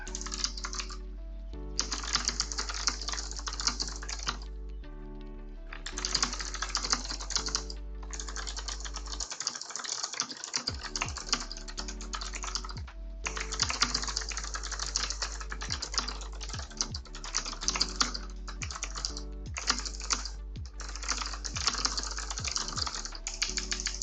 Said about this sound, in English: I'm typing on the other screen here.